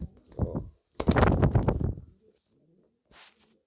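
Racing pigeons coo in a loft in Stargard, Poland, with soft repeated throaty calls swelling into a louder cluster of coos, then a short pause and a brief final call.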